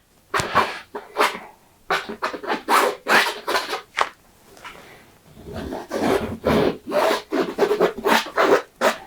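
Repeated rough scratching and scraping strokes on a surface during painting, close and fairly loud, in irregular bursts with a brief lull midway.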